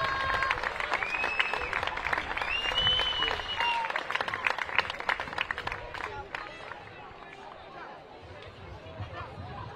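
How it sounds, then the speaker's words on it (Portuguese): Crowd applause and cheering for the third-placed Sporting Clube de Portugal team on the podium at a women's football tournament final, dense and loud at first, then thinning into scattered claps and chatter. "uma salva de palmas para o Sporting Clube de Portugal"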